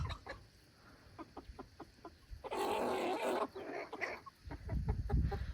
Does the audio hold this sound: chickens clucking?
yes